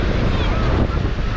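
Big surf breaking on a Durban beach, a steady, loud wash of churning water mixed with wind buffeting the microphone, with no voices.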